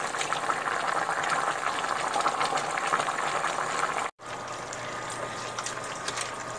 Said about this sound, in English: Now we're going to reduce the heat and let this simmer.